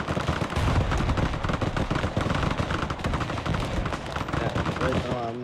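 Heavy battlefield gunfire from tanks exchanging shots in the Broken Arrow multiplayer game, dense rapid bangs and rattling bursts layered continuously, with a voice talking over the combat.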